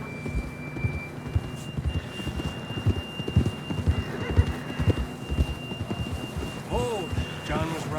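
A horse in Red Dead Redemption 2 clops along with irregular hoofbeats, then lets out a rising, wavering whinny near the end, set against rumbling outdoor ambience and a faint steady tone.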